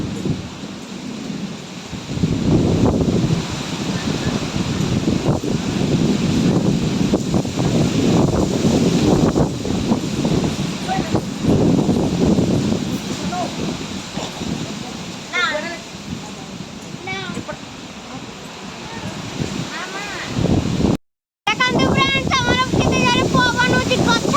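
Strong wind roars and buffets steadily through a village, a rough rushing noise that dominates throughout, with a voice and a few faint chirps breaking in near the end.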